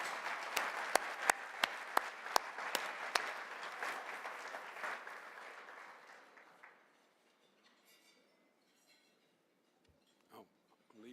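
A big round of applause for nominees and board members at a conference breakfast plenary, several sharp claps up front, then a steady wash of clapping that fades out, a few quiet voices after.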